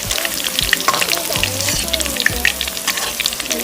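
Chicken pakora frying in hot oil with a loud, continuous bubbling sizzle close by, broken by the scrape and clatter of stirring in the pan.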